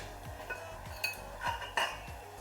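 A lid goes onto a cooking pot of small eggplant and Maloti fish simmering in yogurt and poppy seed, with a few light metallic clinks and scrapes against quiet kitchen background.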